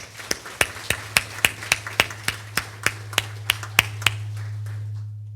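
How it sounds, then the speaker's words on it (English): A round of applause at a government partnership closing ceremony in the Philippines: around fourteen crisp, evenly spaced claps over a steady low hum, stopping abruptly, no voices. "I'd like to give all of them a round of applause"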